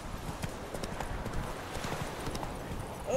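Horse hooves clip-clop at a steady walking pace in a video game, close and moderately loud, with faint game ambience underneath.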